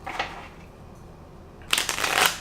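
Cards riffled and shuffled in two quick bursts, crisp and close, with a short quiet pause between them.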